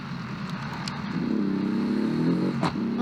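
A rally-fighter-style coupe's engine in the Automation car game, droning steadily and rising in pitch as it revs and pulls, heard alone with no talk.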